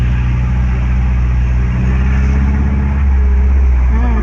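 Motor tricycle passing in heavy rainy-afternoon traffic, a loud, steady engine drone with low rumble and a brief rise near the end, up close with rain and road noise all around and no talk.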